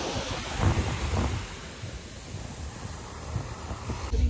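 Sea waves wash onto a beach in Goa, a steady roar of surf mixed with heavy wind rumble on the microphone, with no talking.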